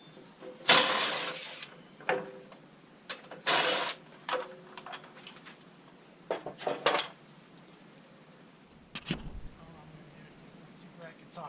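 Ratchet loosening T40 Torx screws on a plastic plate of a 2020 Polaris RZR Turbo S Velocity, a few short bursts of clicking and rattling with pauses between, moderately quiet.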